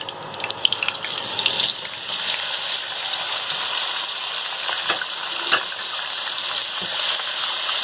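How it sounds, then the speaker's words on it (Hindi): Beef mince tipped into a hot pan with curry leaves, frying with a steady close hiss and sizzle, a few clinks and scrapes early on and brief crackling bursts throughout. "अब मैं ये कीमा इसमें डाल लूँगी।"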